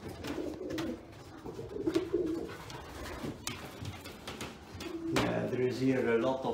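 Racing pigeons cooing inside an indoor loft: soft, steady throaty coos that continue throughout, with occasional thumps and faint background voices.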